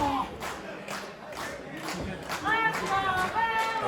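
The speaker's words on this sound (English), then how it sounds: "You hear the chant of Tommy sucks." A wrestling crowd chants "Tommy sucks" at a live match, a rhythmic roar of many voices rising and falling in repeated bursts from a distance.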